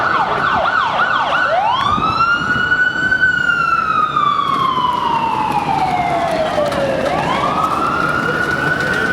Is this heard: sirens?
yes